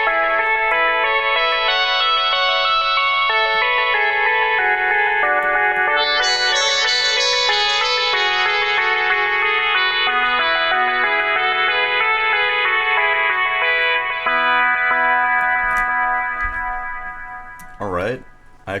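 A synthesizer with its chorus effect switched off holds a long, bright, sustained chord, its tone shifting slightly over time before a brief swept warble near the end.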